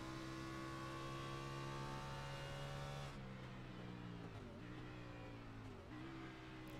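A stock car's engine in an Xfinity Series racing video game holds a loud, sustained whine, then drops in pitch as it shifts up through the gears.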